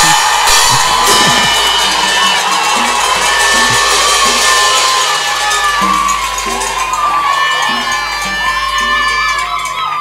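Women ululating together at a wedding ceremony, a loud, sustained chorus of high trilling cries with crowd cheering and shouts, continuous and close for the whole stretch.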